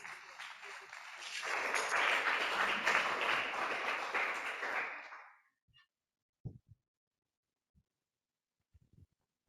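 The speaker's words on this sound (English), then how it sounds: "Yeah, there's some applause hanging, so please." Audience applause closing a conference panel session, a dense burst of many hands clapping for about five seconds before fading out, followed by a few isolated faint knocks and rustles in near silence.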